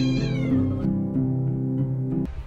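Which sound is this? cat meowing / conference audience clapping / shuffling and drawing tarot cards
cat meowing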